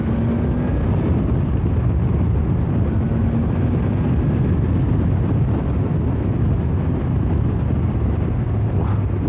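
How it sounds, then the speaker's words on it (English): Strong wind buffets the microphone while a motorcycle rides along Scotland's north coast, a steady, dense roar with a low engine drone mixed in, continuous and loud throughout with no talking. "Windy up here."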